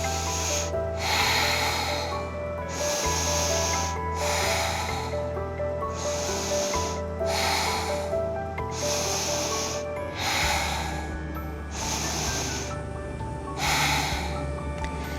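Slow, deep breaths repeat one after another during a yoga boat pose, each a loud, rushing exhale through the nose with short pauses between, close to the microphone.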